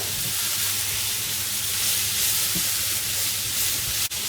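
Carrot is stir-fried for mamak-style fried cabbage, giving a steady loud sizzle and hiss throughout, with faint stirring scrapes and one short sharp click near the end.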